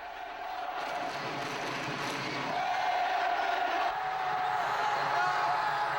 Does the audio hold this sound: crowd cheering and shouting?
yes